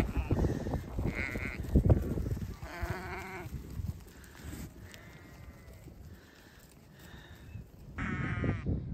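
Sheep on a snowy hillside farm bleating several times in scattered, fairly close calls, with quieter stretches of outdoor ambience between them.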